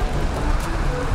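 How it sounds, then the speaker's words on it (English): Rain in Valheim, falling as a dense, steady hiss of drops throughout the short moment, even and fairly loud with no breaks. "Man, not much to do when it's raining."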